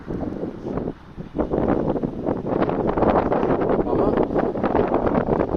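Continuous wind buffeting against the microphone outdoors in cold weather in Ireland, a dense rough rumble with a short lull near the start before it surges back.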